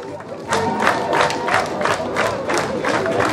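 Outdoor crowd at a town festival parade in Pakruojis, clapping and cheering along with dancing marchers; steady broadband applause with rhythmic bursts, moderately loud and fairly close, with scattered voices mixed in.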